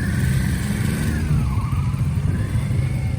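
A Suzuki GSX-R 750 motorcycle rides slowly through a U-turn box, its engine a steady mid-pitched drone with the revs dipping and rising again as it turns.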